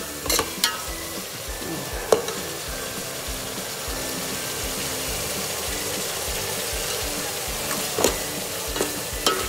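Yogurt-spice vegetable gravy sizzles steadily in oil while a spoon scrapes and clatters against the pan with a few sharp knocks, all heard close up.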